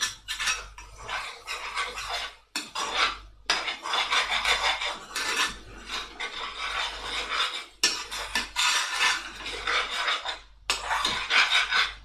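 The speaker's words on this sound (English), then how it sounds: "Scrape them sticky bits." Utensil scraping sticky bits from the bottom of a pan while cooking chilli chicken, a loud, continuous metallic rasping in long strokes, with a few brief pauses, and no talking.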